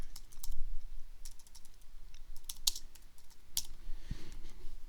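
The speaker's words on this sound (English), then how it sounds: "And hit enter on my keyboard" Keys clatter on a computer keyboard during web page editing in Dreamweaver, with scattered quick clicks and a few heavier key presses close to the mic, no voices.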